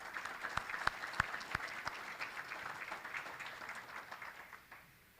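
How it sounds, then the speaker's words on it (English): Round of applause from a seated crowd at an equestrian association's annual awards dinner, steady dense clapping with a few sharp nearby claps, holding for several seconds before tailing off. "So how about a round of applause for Molly?"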